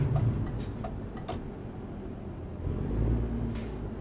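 A Renault Premium truck with an ISX12 G engine in Euro Truck Simulator 2 rumbles low and steady at idle, with a few brief clicks and a faint hiss.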